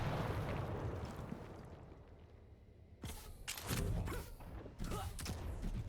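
Rocket explosions in a Quake Champions World Championships qualifier match go off as a cluster of sharp, heavy bursts in the second half, following a quieter stretch of game ambience, with commentary running over the action.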